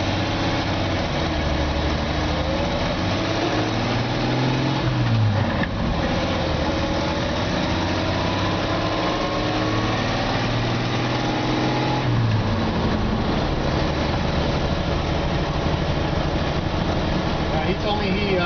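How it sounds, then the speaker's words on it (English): A 1955 Chevy 3100 pickup engine runs at a steady idle, a loud close drone with a couple of brief revs, while someone talks over it. "We're going to tap the gas pedal twice, and first foot starter pedal works just fine."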